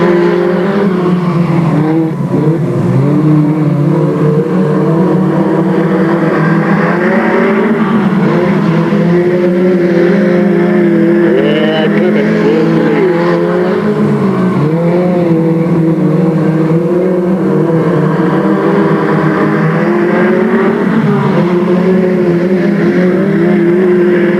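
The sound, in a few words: race cars accelerating at green flag start, Delta Speedway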